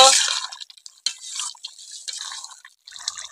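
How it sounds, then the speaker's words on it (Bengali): Vinegar goes into a pan of chicken for a traditional Bengali onion chicken dish and gets stirred, giving a few close, faint liquid splashes and spoon scrapes, then scattered light clinks and drips, with no talk over it. "দেবো এই 4 চামচের 1 চামচ ভিনিগার।"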